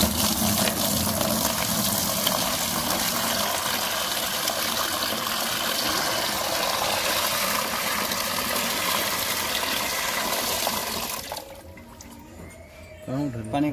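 A water pump runs inside a homemade air cooler built from a plastic drum, giving a loud, steady rush of flowing water that continues for most of the stretch before dropping away abruptly near the end.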